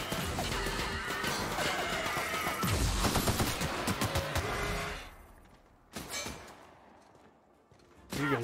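Gunfire in The Outer Worlds: dense, loud, continuous shooting and crashing for about five seconds, then fading to scattered single shots and a final burst.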